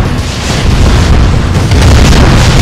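Explosions rumble through a base under attack in the real-time strategy game Red Alert Remastered, a dense, loud, continuous barrage of low booms and bursts with no talk.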